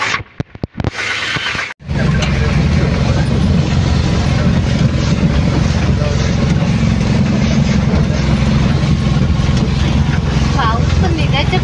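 A vehicle engine runs steadily inside a car on a rainy village trip, a constant low rumble and hum that fills the clip after a brief disturbed opening.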